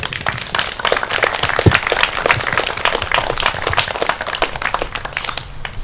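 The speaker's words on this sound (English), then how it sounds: "give them a clap, everyone" Wedding guests clap for the newly married couple during the ceremony, a dense, steady round of many hands at full strength that runs throughout and eases slightly at the end.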